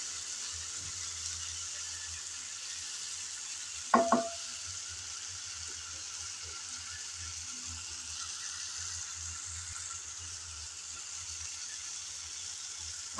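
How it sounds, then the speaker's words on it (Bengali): Chopped tomatoes fry in a pan with a steady, low hiss of sizzling oil throughout, broken once by a short utensil clatter. "কিছুক্ষণ সময় ধরে টমেটোটা ভাজতে হবে, যাতে ভালোভাবে সিদ্ধ হয়ে আসে।"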